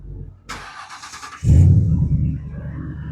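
A 1964 Ford F100 with a 4.6 engine and MagnaFlow exhaust cranks with a brief starter whir, then catches and settles into a loud, deep rumbling idle.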